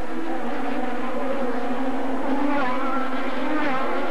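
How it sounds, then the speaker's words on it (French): Formula Atlantic race cars at the 1996 Molson Indy Toronto streak past close to the wall, a continuous high buzzing engine whine that rises and falls as several cars blend into one loud stream. "Voilà des voitures qui passent tout près du muret."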